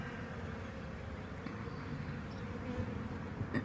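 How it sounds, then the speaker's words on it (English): Honey bees buzz around a swarm in a steady, dense low drone of many wings. The hum is continuous, close and moderately loud, with no talking. "all these bees flying around right here are girls."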